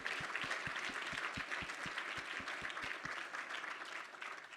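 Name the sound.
audience applause for ambassadors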